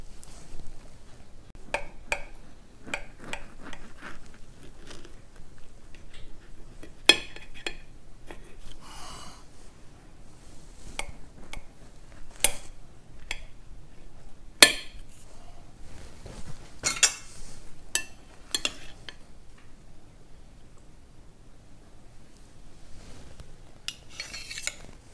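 A knife cutting into a homemade carrot cake with cream cheese frosting on a plate, soft scattered taps and clinks of cutlery against the dish, faint and close, with quiet breathing between strokes.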